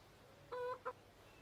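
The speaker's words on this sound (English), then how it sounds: "You ever feel like these chickens are really judgmental?" Chickens cluck in the Counter-Strike video game, two short clucks close together against a quiet background, the first a little longer than the second.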